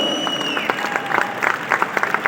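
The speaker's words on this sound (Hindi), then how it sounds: "मेरे मेंटर रामदास चौधरी सर, मैं उनके लिए एक बार जोरदार तालियां चाहता हूँ आप लोगों।" A short burst of clapping from a crowd in a hall, starting thin and building into steady applause, with a faint tone fading out early on.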